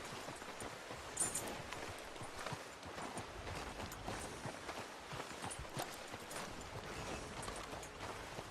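Horse hooves clip-clop at a steady walking gait in Red Dead Redemption 2, a continuous close rhythm of soft thuds running the whole stretch with ambient game background underneath.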